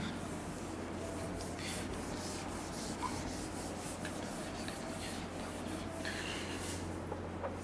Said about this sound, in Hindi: इसको रब करें